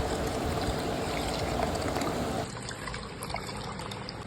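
Rice, about 1.2 kg, is washed with water in a pot, a steady close swishing and trickling of water that drops slightly in level partway through, with no talk.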